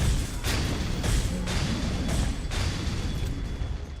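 Fireworks in the game Dragon's Dogma Online, fired at a Cyclops, heard as a dense, loud string of booms and bursts that repeat about every half second over a constant rumble.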